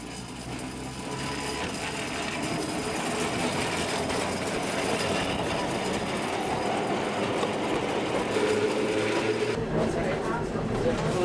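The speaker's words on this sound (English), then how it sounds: "The tram we are riding in is Fiducia Type 239." A Wellington tram, a Fiducia Type 239, rumbles along with a continuous low roar, rattling, and faint clacking of the wheels, heard from inside the car.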